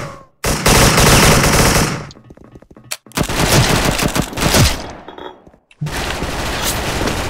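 Predator AK74 replica gun firing in long sustained bursts, loud and close, with a brief pause between three rapid-fire strings and no talking.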